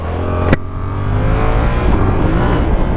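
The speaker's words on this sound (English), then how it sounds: "That stock exhaust. Oh my goodness, it is awful. No sound, so quiet." A Yamaha R7 motorcycle on its stock exhaust revs close by, a subdued, smooth engine drone with a sharp click at the start and no other sounds.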